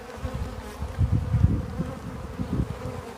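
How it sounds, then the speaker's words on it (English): Bees from a hive high in a tree buzz in a dense, low, wavering drone that swells in pulses as they swarm close by. "These bees are nasty"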